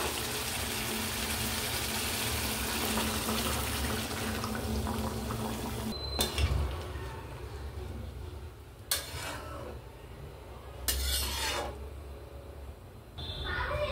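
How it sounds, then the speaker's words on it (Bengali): Hot water pours steadily into a pot of chicken curry with fried potatoes, a dense gushing wash for several seconds, then quieter simmering broken by a few brief clinks and knocks. "জল গরম করে রেখেছি, সেই জল গরমটা আমি এতে অ্যাড করব।"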